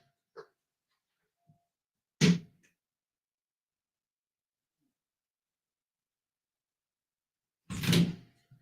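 A door opens and shuts with two separate bursts of knocking and rattling, one at the start and one near the end, parted by a long stretch of silence; a faint small tap comes before them.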